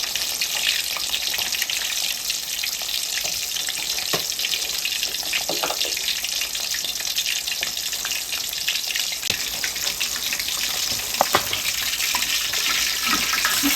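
Fish fries village style in a pan on a low flame, a steady, close, loud sizzle crackling throughout with occasional brief clinks and pops and no talking.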